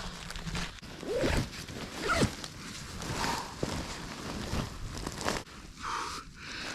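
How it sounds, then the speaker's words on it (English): A zipper on a military surplus ECW sleeping bag is drawn in several short rasping pulls, close and fairly quiet, with rustling of fabric between strokes during a cold night outdoors. "We gotta get zipped up here though."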